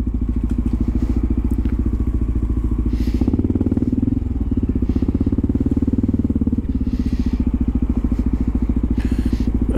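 A motorcycle engine runs with a steady, close, throbbing rumble and rapid pulsing idle beat, occasional faint clicks and knocks riding over the continuous drone.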